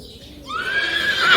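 A horse gives a loud, close whinny that rises and wavers, with a faint shuffle just before it.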